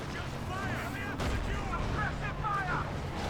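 Panzer IV tank cannon fire in the Company of Heroes 2 video game, a sharp blast near 1.2 seconds within steady battle ambience, with someone commentating over the action.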